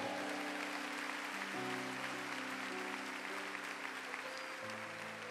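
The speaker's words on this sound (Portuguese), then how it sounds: "uma salva de palmas forte a Jesus" A church congregation claps steadily and loudly for Jesus during a worship service, the dense applause carrying over sustained keyboard chords that shift a few times.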